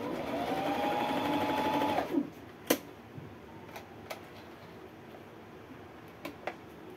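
Toyota Sewie 30 sewing machine stitching after its thread tension is adjusted, a steady close mechanical whir for about two seconds that stops abruptly, followed by a few faint clicks and taps.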